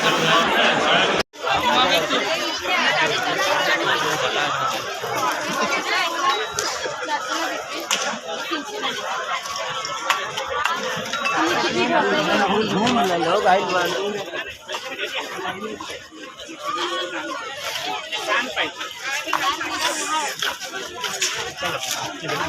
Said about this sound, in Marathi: आता बघ गर्दी किती आहे.